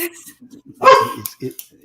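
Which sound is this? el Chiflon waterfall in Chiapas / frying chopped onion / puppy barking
puppy barking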